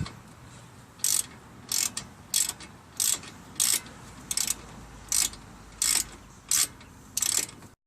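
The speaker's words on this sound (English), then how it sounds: "Well, we get that bolt off." Ratchet wrench turning a brake caliper bolt on a 2013 Mazda 5 Sport wagon, a series of about ten evenly spaced, crisp clicking bursts, close and fairly loud over a quiet background.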